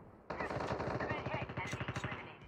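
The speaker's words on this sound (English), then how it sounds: "AK-47." An AK-47 in the mobile shooter Call of Duty Mobile fires a sustained fully automatic burst of about two seconds, rapid evenly spaced loud shots that start abruptly and fade slightly toward the end.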